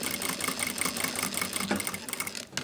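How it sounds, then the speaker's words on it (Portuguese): Sewing machine running a seam on a cotton tea towel, a continuous rapid whirring hum with fast regular stitch pulses, close and steady for the whole stretch, with no voices. "Tô aqui costurando"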